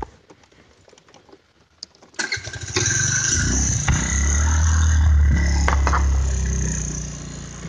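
A Gator 50 moped engine starts after a quiet stretch with small handling noises, then runs steadily and fairly loud nearby, revving slightly higher before settling into a constant buzzing drone.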